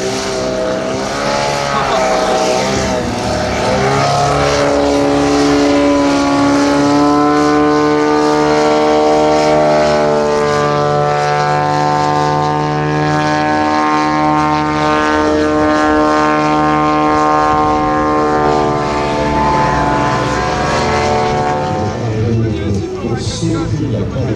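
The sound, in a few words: propeller airplane flying at Beugin airshow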